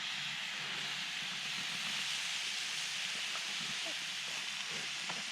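A methylated spirits burner inside a small folding firebox burns at a wild camp, making a soft, continuous rushing hiss that stays even and low-level throughout.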